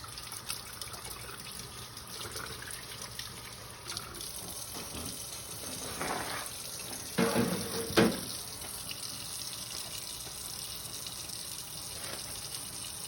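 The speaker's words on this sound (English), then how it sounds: "Turn the water off." Water running from a kitchen tap into a sink, a soft steady hiss and trickle with a few louder splashes midway.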